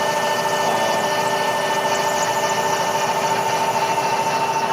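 Steady, loud mechanical whine of a magnetic drill cutting through metal, droning continuously with a constant pitch and a faint vibrating rattle.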